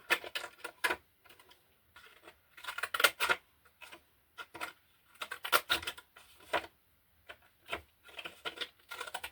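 Scissors snip through paper for a junk journal page in short, crisp bursts of cutting, close and fairly quiet, separated by brief pauses with no talk.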